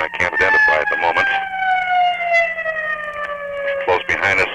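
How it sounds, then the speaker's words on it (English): A siren wails steadily with slowly falling pitch at Love Field, heard under and between nearby voices talking in a crowd. "Close behind us seems to be just a siren."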